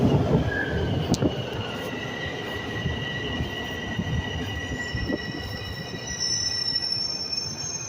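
Subway train at Dupont station rolling through with loud continuous rumble and high-pitched wheel squeal ringing over it, close and steady throughout.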